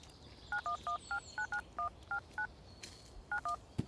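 A telephone keypad dialing a 911 emergency call gives a quick run of nine crisp touch-tone beeps, a short pause, then two more, fairly faint against a quiet room.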